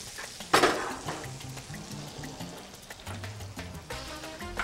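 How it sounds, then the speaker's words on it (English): Onion and potatoes sauté in a pot with a soft sizzle, a sharp clink of a utensil early on and quiet stirring scrapes beneath, no one talking. "So we'll let that saute down a little bit."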